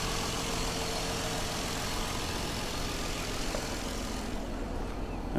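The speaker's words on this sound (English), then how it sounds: "I can hear the air compressor kicking in and turning off" An air compressor at a salvage car auction yard runs with a steady, loud, broadband hum, then its hiss drops off near the end as it shuts off. No voices are heard.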